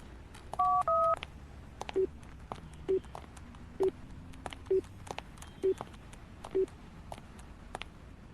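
A phone dialing a call that does not go through, a few quick keypad tones followed by a regular series of single short beeps spaced about a second apart, fairly clear over a faint background.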